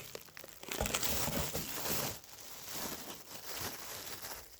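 Plastic film being crinkled and trimmed by hand while preparing candy feed for wintering bees, close, irregular rustling and crackling bursts with a brief lull midway.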